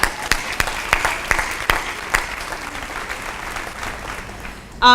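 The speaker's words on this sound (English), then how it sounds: "let's applaud" At a school commencement ceremony, the audience applauds the class of 2018 with steady crowd clapping, a few sharper claps standing out early before the applause fades and a voice begins at the very end.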